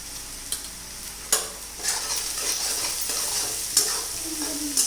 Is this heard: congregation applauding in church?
no